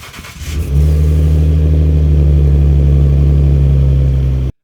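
Cold start of a 2009-2014 Ford F150 V6 with dual exhaust: a brief crank, then the engine catches and settles into a loud, deep, steady idle that runs until an abrupt cutoff.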